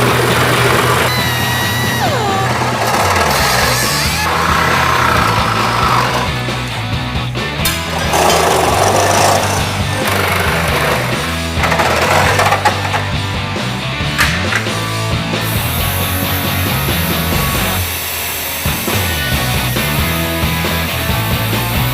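Metal is being cut on a hot rod in a garage with a plasma torch, a steady loud mechanical buzz and hiss that continues throughout, with rough grinding and clanking mixed in.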